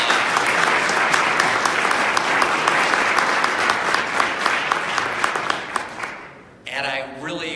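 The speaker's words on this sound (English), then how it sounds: "Let's give them a nice warm round of applause." Audience at a chamber of commerce tax reform breakfast applauding panelists, a full warm round of clapping that gradually fades out, followed by a voice starting to speak.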